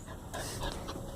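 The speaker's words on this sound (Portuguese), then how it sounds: "Olha esse meu dog." A pet dog panting softly and rapidly nearby, quick faint breaths over a quiet background.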